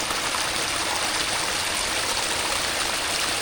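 An FMS K10 V2 Chevy Blazer mini RC truck pushes through a pool of water, giving a steady splashing, gushing rush throughout, close and without speech.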